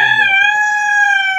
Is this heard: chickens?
yes